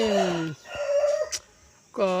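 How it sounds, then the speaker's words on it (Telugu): A native country rooster crows loudly and close by, one long strained crow, then a quieter stretch, then another crow beginning at the end. "ఇది ప్యూర్ నాటుకోడి"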